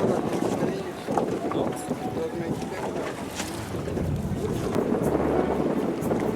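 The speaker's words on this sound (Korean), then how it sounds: "새들의 섬에 가는 보트를 탔다." A boat heading out to the bird island off Veracruz, Mexico, moves across open water with constant wind rushing past the microphone and churning water underneath.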